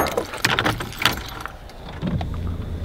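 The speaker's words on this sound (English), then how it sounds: "Bandit Supply Co. keychain, baby" Keys on a Bandit Supply Co. keychain jangle in quick metallic bursts near the mic, with a brief low car rumble underneath toward the end.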